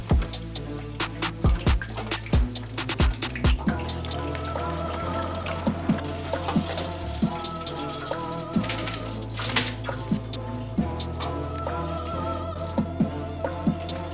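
French fries bubble and crackle in hot oil at 325 degrees, a dense patter of small pops like rain that runs steadily throughout, with background music underneath and no talking.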